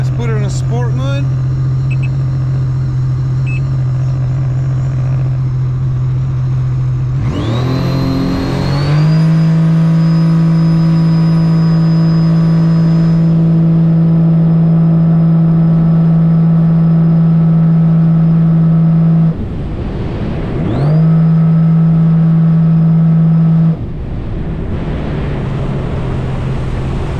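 A Sea-Doo personal watercraft's Rotax engine in sport mode idles with a steady drone, then revs up sharply and holds a loud, high, steady whine, dips briefly mid-way and climbs again, all close and continuous.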